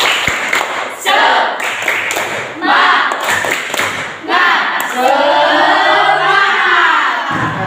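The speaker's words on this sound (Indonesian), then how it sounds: "Bapak minta untuk tepuk semangat." A classroom group does a rhythmic spirit clap, bursts of clapping and thuds with shouted chanting in a lively pattern, ending in a longer cheer.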